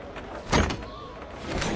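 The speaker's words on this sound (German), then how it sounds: "So, Tür auf." A door opening in the stealth video game Thief, with one short, solid thump-and-scrape near the middle over a constant ambient drone, no speech.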